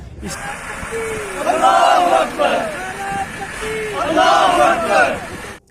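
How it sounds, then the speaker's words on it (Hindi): A protest crowd chanting the religious slogans Nara-e-Takbir and Allahu Akbar in loud call-and-response, with rising group shouts swelling twice over a busy street background. "नाराए तकबीर, अल्लाहू अकबर, ये स्लोगन लग रहे हैं।"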